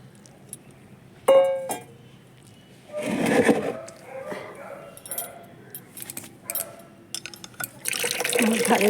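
Water is poured into a bowl and swirled to rinse it, mixing with rice-rinse water, poppy seeds and semolina for plant feed; close splashing bursts come and go with small clinks between, growing louder and steadier at the end.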